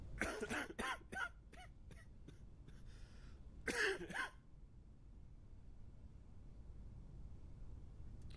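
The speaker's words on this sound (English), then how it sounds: "we hear a cough" A rapid series of short, sharp coughs in quick succession, then a pause and one more burst, over a steady background hiss.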